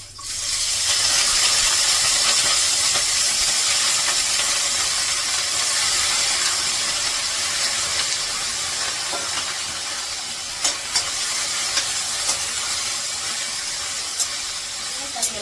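Jackfruit sautéing in oil gives a continuous loud hiss that fades slightly over time, with a few sharp clicks and taps toward the end and speech in the background.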